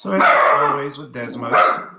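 A dog barks several times close by, loud and sharp, while a person keeps talking over the barks.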